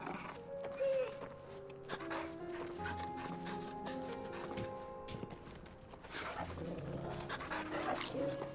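A dog pants steadily in the video game Final Fantasy XVI, with game music, footsteps and other effects layered underneath, while a player talks over it.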